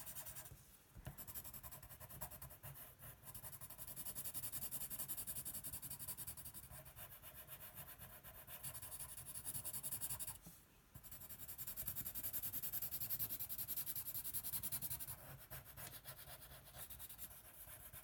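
A pencil shades a Darth Vader mask drawing on paper, rubbing and scratching in a close, continuous rhythm with two brief pauses.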